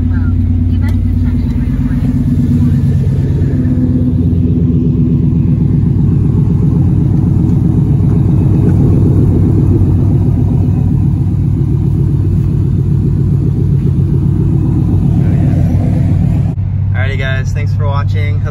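A deep, loud engine rumble from a Saleen's exhaust with louder mufflers idles steadily, with a brief burst of other sound near the end.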